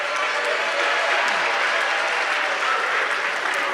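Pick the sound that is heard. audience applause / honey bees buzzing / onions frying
audience applause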